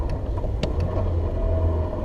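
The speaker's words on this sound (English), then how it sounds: "I'll double clutch a couple downshifts." A car engine hums low and steady from inside the cabin during a double-clutch downshift through the gears, with a faint rev blip over a constant rumble.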